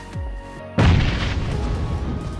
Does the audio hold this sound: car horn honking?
no